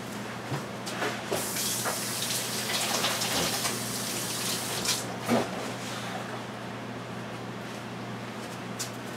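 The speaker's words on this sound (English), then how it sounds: "So I'm going to wash my hands and I'm going to get it started." Tap water runs steadily as hands are washed in a kitchen sink, a continuous hiss and splash with brief surges of splashing, close and moderately loud with a low background hum.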